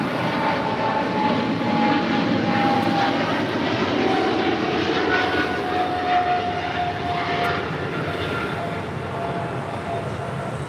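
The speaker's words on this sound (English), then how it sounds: "This is Singapore Airlines Flight 11 taking off to Tokyo, Narita on a 777-300 ER." Singapore Airlines Boeing 777-300ER jet taking off at Los Angeles Airport, a loud, continuous engine roar with a rising whine that stays strong, then eases slightly as it recedes toward the end, with no talk.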